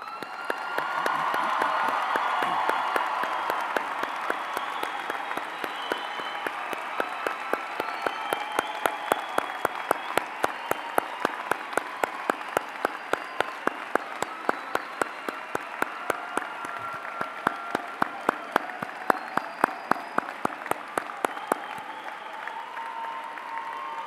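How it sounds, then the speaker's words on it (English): A large commencement crowd applauds the graduating class of 2014, a long sustained roar of clapping with scattered cheers and whoops that settles into a rhythmic beat of synchronized claps toward the end. "Please stand and receive our applause."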